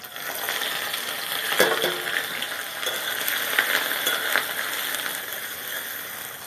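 Sliced onions fry in a pan with panch phoron, the Bengali five-spice mix, giving a continuous close-up sizzle with scraping stirs and small crackles throughout.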